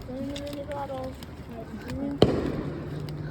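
Fireworks go off outdoors with a single sharp bang and a brief crackling tail, while voices talk nearby.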